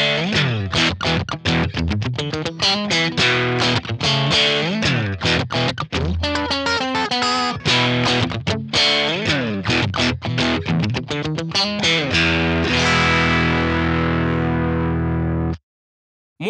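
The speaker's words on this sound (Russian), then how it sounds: "Давайте послушаем, как звучит комбик с эмуляцией." A distorted electric guitar chugs and rings through an Orange Crush 12 combo amp's headphone emulation, crunchy and overdriven, steady and loud, with palm-muted riffs and sustained chords before stopping suddenly.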